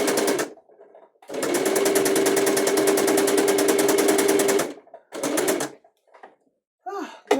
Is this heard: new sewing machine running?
yes